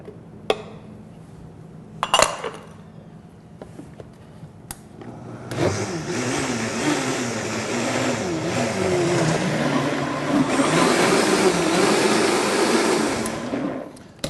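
A blender purees crêpe batter of flour, salt and liquid in a loud, continuous whirring roar that starts after a few faint clinks and keeps a slightly wavering pitch.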